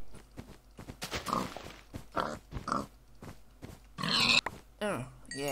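Pig grunting in the Minecraft video game, several short nasal grunts and oinks mixed among excited speech from a player, fairly loud and close.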